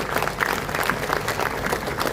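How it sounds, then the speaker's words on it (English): Audience applause at a Bangalore Skill Summit 2025 technical session, a steady wash of many hands clapping at fairly close range and holding even for the full length with no voices standing out. "Big round of applause."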